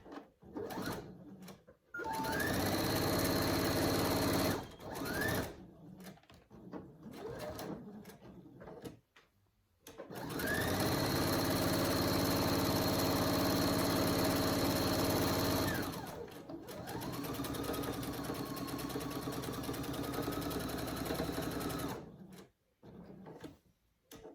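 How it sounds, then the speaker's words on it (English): A sewing machine stitches around a fabric heart for a stuffed toy, running in long steady whirring bursts close by, with short pauses between runs where the fabric is turned and repositioned. "So let's go ahead and sew all the way around."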